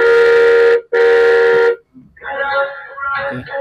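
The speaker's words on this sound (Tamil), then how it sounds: "இது ஹார்ன்" Two sustained electronic horn blasts from a kids' battery ride-on toy car, loud and close, followed by a short burst of cheerful toy music.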